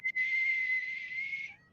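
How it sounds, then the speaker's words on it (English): A kettle lets out a high-pitched whistle: a short blip, then one steady, piercing tone that holds for over a second before cutting off, heard alone. "you hear like that high-pitched whistle of a kettle going off from the building ahead"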